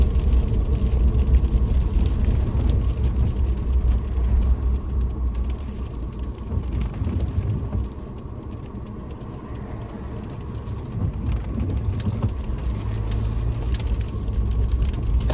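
A car drives along a road covered in fallen leaves, giving a steady, close rumble of engine and tyre noise that dips briefly midway before rising again, with no talking.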